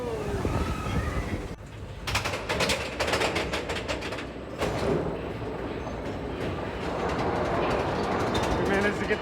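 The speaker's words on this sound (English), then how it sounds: "We got a little mine train action for you." Mine train roller coaster at Magic Kingdom rattling and clattering along the track, loud rumbling and clacking throughout, with riders' voices and exclamations mixed in.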